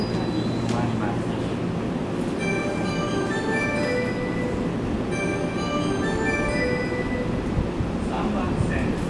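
A commuter train idles at a platform of Nishiarai Station on the Tobu Skytree Line during the morning rush hour amid steady rumbling noise, with a Japanese station announcement and chime-like tones running through.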